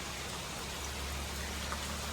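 Steady, dense rain hisses continuously, heavy and close, a constant wash of drops with no pauses and no voices.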